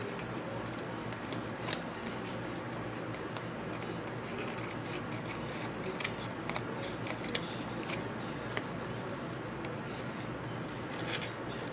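Scissors cut around paper for a beginner's mini album, producing faint, continuous snipping and rustling at low level throughout.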